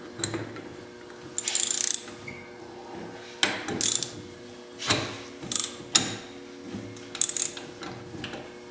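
A 3/8-inch drive ratchet works on the rear brakes of a 1972 Volkswagen Beetle, clicking in loud, close, uneven bursts with short pauses between strokes.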